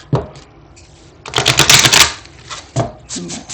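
Tarot cards are shuffled by hand in a few quick riffling bursts, with a dense crackling flurry in the middle and shorter taps on either side, close and fairly loud with no talking.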